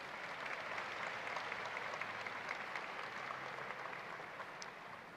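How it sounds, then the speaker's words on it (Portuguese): A crowd at the opening ceremony of the Exposibram 2024 mining expo gives a round of applause. The applause is even and sustained, heard from a distance and fairly faint, and it fades a little at the end. "Uma salva de palmas, por gentileza."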